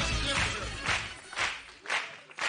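A television studio audience claps for the Harlem Globetrotters, bursts of applause swelling and fading in several waves over a low murmur, fairly close and moderately loud.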